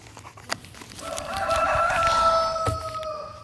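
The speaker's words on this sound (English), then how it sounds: "Muzzle the rooster." A rooster crows once nearby, a clear drawn-out cock-a-doodle-doo rising and falling over a quiet background with a few faint clicks.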